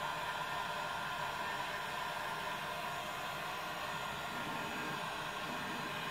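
A hot air heat gun blows steadily while welding polyethylene plastic on a kayak repair, a loud, continuous broadband whoosh that holds unbroken throughout.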